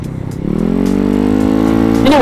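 A Honda Ruckus scooter's small engine idles close by, then revs up into a rising, steady drone and climbs again near the end, loud and unaccompanied by talk.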